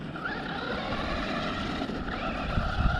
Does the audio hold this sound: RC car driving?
yes